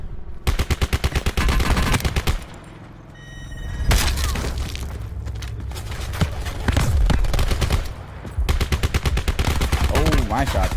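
Rapid bursts of automatic gunfire and single shots crack through a Call of Duty: Blackout battle royale match, loud and near, with brief lulls and booming impacts between volleys.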